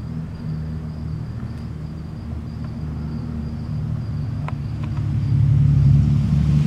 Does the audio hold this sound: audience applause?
no